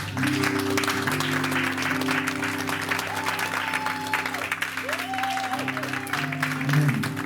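A church congregation at a French-language thanksgiving service applauds and cheers steadily throughout, a sustained wash of clapping with organ or keyboard chords held underneath.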